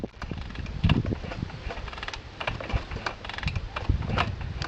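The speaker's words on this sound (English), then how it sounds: "I'm going to give it a couple of slow kicks first." A Honda CR80 motorcycle's kick-starter worked through a few slow kicks with the fuel just turned on, giving a series of mechanical clunks and ratcheting clicks, fairly close and moderately loud, with no engine catching.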